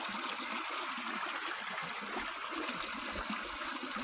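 Water flows continuously in a gentle, rushing stream, a steady broadband wash with no voices, fairly soft and close.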